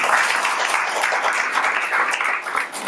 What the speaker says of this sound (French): Guillaume, on peut applaudir